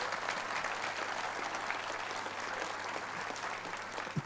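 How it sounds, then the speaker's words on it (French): Audience applause for an accordion player at a live anniversary party, an even, continuous wash of clapping heard from a little distance, with a low steady hum underneath. "Ah bah oui, on peut l'applaudir quand même."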